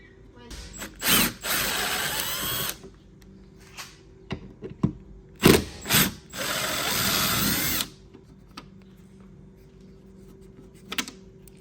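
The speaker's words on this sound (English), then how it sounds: "We're simply going to next remove the Torx T30 screws right here." A power tool drives out Torx T30 screws on a sixth-generation Ford Bronco: two long whirring, ratcheting bursts, each with quick trigger blips in between, loud and close, separated by quiet pauses.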